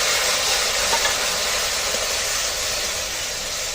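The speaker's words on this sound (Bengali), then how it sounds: "সামান্য একটু গরম জল দিয়ে দিলাম এখান থেকে।" Hot water poured into frying chili powder and cumin paste for bitter gourd dal sets off a steady, loud broadband sizzle and hiss that holds evenly throughout, with no talking.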